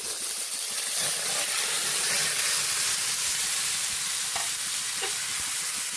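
Chicken pieces sizzling in a hot pan while cooking tinolang manok, a steady loud hiss and crackle filling the whole moment, with faint stirring clicks near the end.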